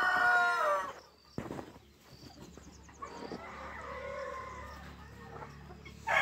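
Chickens on a desi poultry farm: a rooster crows loudly at the start, then softer clucks and scattered fowl calls follow against a quiet background, and another short crow rises at the end.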